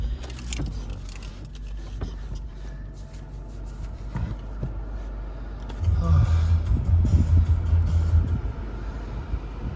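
A Toyota Camry is started in hot weather with the air conditioning about to run. Light clicks and rustling inside the car give way to the engine catching around the midpoint, then a steady low idle hum.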